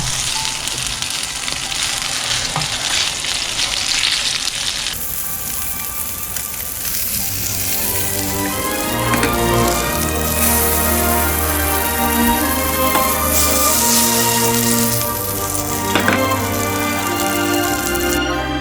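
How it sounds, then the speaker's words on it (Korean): A venison hamburg patty fries in olive oil in a hot pan, producing a loud, steady sizzle that continues as music comes in and plays over it. "달군 팬에 올리브유 두르고 구워요"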